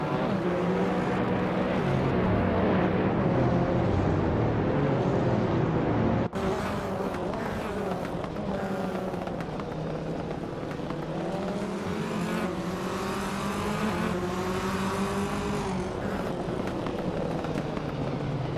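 TCR touring cars racing at Owen Park, a tight pack of engines howling together with rising and falling pitch as the field runs nose to tail, loud and continuous with a brief break partway through and no talk.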